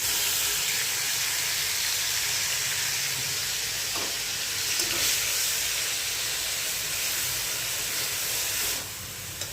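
Onion paste for chicken korma sizzling in hot oil in a pan, a steady, loud hissing fry that holds evenly for several seconds before easing slightly at the end.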